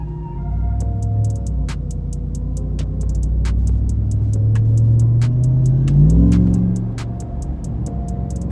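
A Dodge Ram TRX pickup truck engine accelerates at moderate speed on a road, its low exhaust note climbing steadily in pitch with a continuous rumble and no talking.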